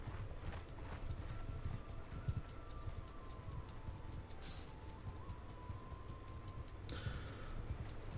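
Steady horse hooves clip-clop at an even trotting rhythm, close and moderately loud, with faint ticking and occasional brief mechanical clicks in the Mount and Blade II: Bannerlord video game.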